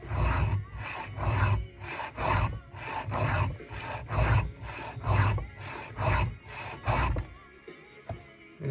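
Steady back-and-forth strokes of a file sharpening a chainsaw chain at a workbench, about a dozen close, even rasping passes, then a brief pause with a few faint clicks.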